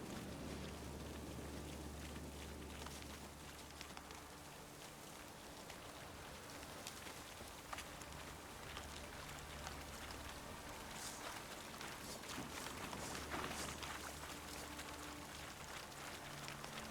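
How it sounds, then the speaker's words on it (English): Steady, dense rain hiss pouring down without pause, with soft low rumbles underneath and no voices, in the video game The Witcher 3: Wild Hunt. "Looks like rain."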